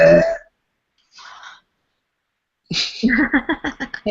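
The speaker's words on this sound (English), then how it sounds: "I think that was your burp we just heard" A short burst of voiced, belch-like sound, then a brief faint noise, and later a rough, pulsing voiced sequence with no words.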